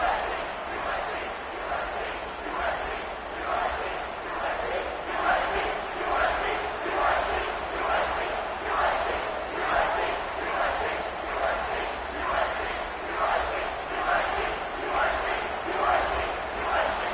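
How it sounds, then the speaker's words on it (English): A stadium crowd at a college football game in South Carolina, a dense, continuous roar of cheering that swells and recedes in waves, loud and sustained throughout. "this crowd is feeling themselves after that last drive"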